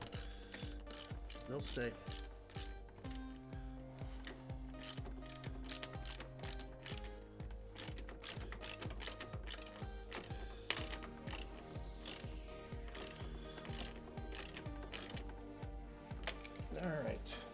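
Screws tightened by hand while a speaker is installed in a car kick panel, a fast clicking ratchet running steadily and close throughout, with a few words spoken over it.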